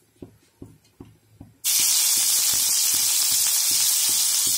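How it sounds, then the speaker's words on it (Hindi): Green chillies hit hot oil for a spicy Maggi noodle dish with a sudden loud, steady sizzle that fills the rest of the clip, after a few soft knocks of a pan. "अब ऑयल गरम हो गया है, इसमें मैं डाल रही हूँ ग्रीन चिली।"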